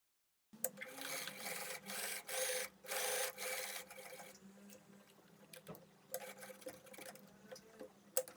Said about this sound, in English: So I pin my darts and I sew them on both my shell and lining.